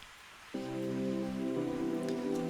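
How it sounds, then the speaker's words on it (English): Chopped onions hit hot oil after ginger and garlic and start to sauté, a sudden steady sizzle that jumps in partway through and stays loud and even to the end, with no talking. "Now add chopped onions and saute and cook for a minute."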